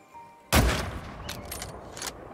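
A single loud gunshot booms in the video game The Red Lantern during a rabbit hunt, followed by a fading echo with a couple of faint, brief sounds after it.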